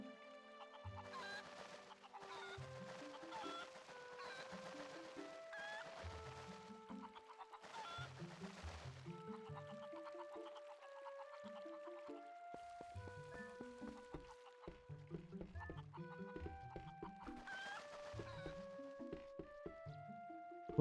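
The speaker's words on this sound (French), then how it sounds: "tu tapes une poule, elle va appeler ses potes" Chickens clucking in the video game The Legend of Zelda: Twilight Princess, with a steady run of bright, repeated clucks and calls over game music that carries through the whole stretch.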